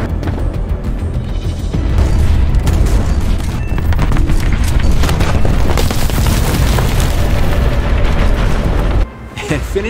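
Booming bomb blasts in War Thunder air-battle gameplay, a loud continuous rumble of explosions and gunfire dense throughout, with a brief dip near the end.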